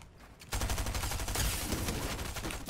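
Rapid gunfire in Fortnite on PC, a quick burst of shots firing in a fast rhythm that starts abruptly after a brief quiet moment and continues at moderate loudness.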